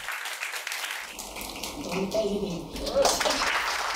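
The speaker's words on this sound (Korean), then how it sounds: "관객의 박수를 받으며 심청가의 첫 대목을 부른다" An audience at a pansori performance applauds a young singer as she bows to begin Simcheongga. The clapping is moderate and builds in loudness, and a narrating voice talks over it.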